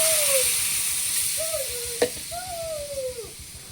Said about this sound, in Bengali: মশলাটা কষানো হয়ে গেছে, এবার জলটা ঢেলে দিলাম